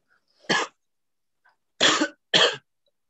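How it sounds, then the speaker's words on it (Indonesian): Three dry coughs in a physics lab class, one short single cough followed by a pair close together, near and fairly loud with silence between. "Oh, ada yang batuk ya."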